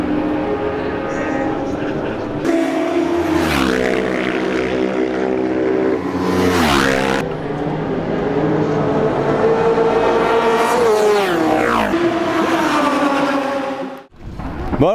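Classic racing motorcycles howl past at the start of the Bol d'Or Classic at the Paul Ricard circuit, with loud rising and falling engine passes one after another and a voice talking over them.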